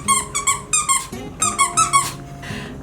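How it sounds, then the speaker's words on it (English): A dog plays with a new squeaky Christmas toy, squeezing out a rapid series of high, nasal squeaks in quick bursts, close and loud, with short pauses between the clusters. "Mishka got a new toy for Christmas, as you can probably tell"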